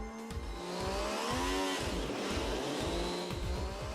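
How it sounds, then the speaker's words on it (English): An early production MV Agusta F3 motorcycle engine runs on a factory test bench, holding a loud, continuous buzzing roar with rising and falling revs and a rhythmic low pulsing throughout. "Now the engine which is running is one of the first engines made with production parts"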